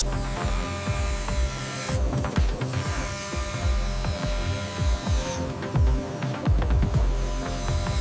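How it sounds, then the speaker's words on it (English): A high-speed CNC oscillating knife cutting thick apple leather, a steady machine hum with rapid low throbbing pulses and brief quieter gaps as the cutting head moves, continuous and close, with no talk. "Utilizing an incredibly aggressive, high-speed CNC oscillating knife, the thick premium apple leather is violently and flawlessly"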